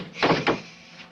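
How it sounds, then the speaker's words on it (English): A door swung shut in an old house, two quick thuds close together, close and fairly loud, then quiet room tone. "Close that door for me."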